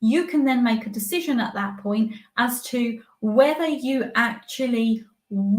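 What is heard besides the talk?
No everyday noise stands out behind the speech.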